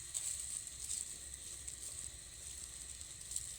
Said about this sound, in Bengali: প্রথমেই উনুন ধরিয়ে কড়াই বসিয়ে দিয়ে কড়াইয়ের মধ্যে কিন্তু গুড়টা দিয়ে দিলাম